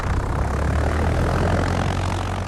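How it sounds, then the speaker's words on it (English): Small propeller plane in flight, a constant loud engine drone with a low throbbing hum from the propeller, steady and close for a few seconds with no talk. "I love the challenge of flying the plane."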